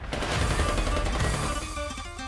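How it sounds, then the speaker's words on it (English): Rapid bursts of gunfire crackle in a dense, continuous volley, loud and sharp, like automatic weapons firing in a scene from the video game Goddess of Victory: Nikke. "Gunshots?"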